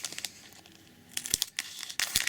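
Scissors cut open the plastic packaging of a Yu-Gi-Oh! card pack, making close crinkling and snipping bursts in uneven clusters with brief pauses between.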